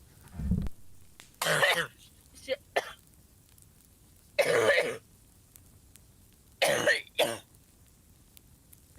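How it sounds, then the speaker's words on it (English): Repeated harsh hacking and retching bursts, several separate fits with pauses between, close by, the sound of a cat coughing up a hairball. "keep coughing up the hairballs"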